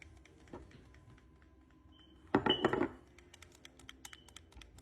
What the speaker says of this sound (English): So I'm just gonna keep on repeating on and clicking it.